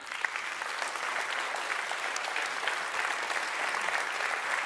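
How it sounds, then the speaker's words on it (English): Sustained applause from a sizable audience at the SME Assembly 2024 conference, a continuous wash of clapping at even strength throughout. "Join me in a second round of applause for Jonathan Trace, or JT as we call him."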